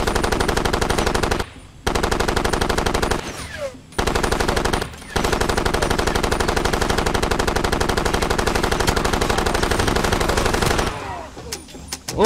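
Far Cry 2 video game gunfire: loud, sustained machine-gun bursts of evenly spaced rapid shots, broken by several brief pauses and tapering near the end.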